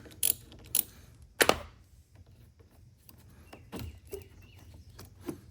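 A ratchet clicks in short bursts while loosening a 10 mm battery terminal nut, close and crisp, with a few sharper metallic snaps between quieter stretches.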